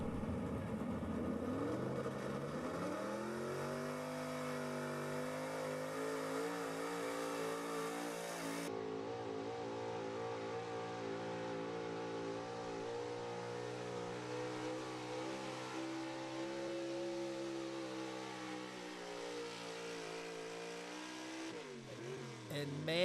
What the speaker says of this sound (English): that truck was screaming down the track, spun out super hard at the end